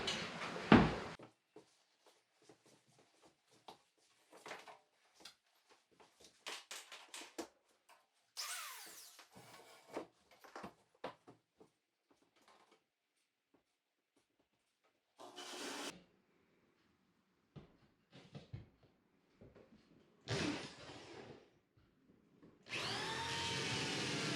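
Several separate bursts of a power drill whirring through a wall at an angle for a mini-split AC install, some short and some longer, separated by quiet stretches with small scraping and handling noises.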